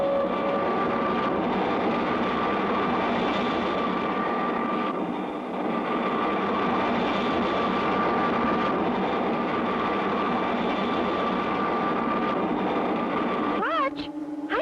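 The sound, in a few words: cartoon spaceship flying passes over Mars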